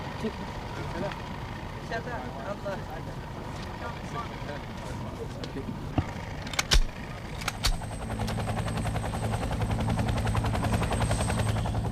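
A military helicopter of the Royal Brunei Malay Regiment's air wing thrums steadily in 1980s footage, its rotor noise swelling toward the end, with a few sharp bangs midway and someone narrating over it.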